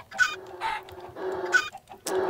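Chickens cluck in Minecraft, a few short, close bursts in an uneven rhythm with brief gaps between them, heard alone without talk.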